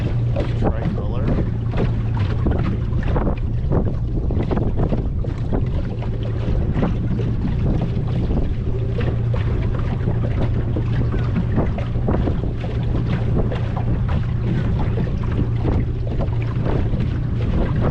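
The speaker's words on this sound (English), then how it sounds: "The wind is actually blowing towards me, pushing waves up the St. Johns River" Steady wind buffets the microphone on the St. Johns River during a kayak paddle, with waves pushed upstream against the current; a continuous loud rushing roar with low hum and scattered splashy knocks persists throughout.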